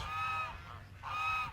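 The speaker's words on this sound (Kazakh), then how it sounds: "үйрек қаздарымыз." Domestic geese and ducks kept by pools at a madrasa in Saryagash give two short nasal honks, close and moderately loud, over a low background hum.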